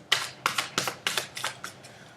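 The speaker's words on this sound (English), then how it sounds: "That's why I'm shuffling so slow." Worn, fragile tarot cards are shuffled slowly by hand, giving about seven separate crisp riffling bursts at an even, unhurried pace, close and clear with no voices.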